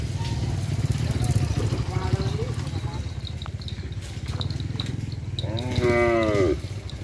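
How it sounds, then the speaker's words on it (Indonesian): Madura racing cattle at karapan sapi training in an outdoor field give a couple of low calls and then one loud, close moo, over steady engine rumble and background crowd noise. "Ini sapi dari Madura bergetar"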